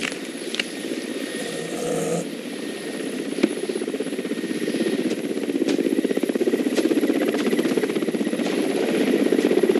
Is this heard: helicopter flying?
yes